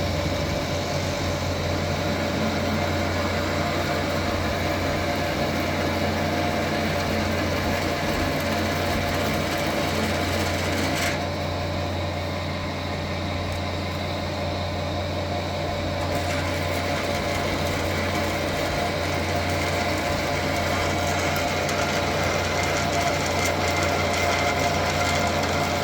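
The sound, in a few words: lathe feeding boring bar into grouser track bushing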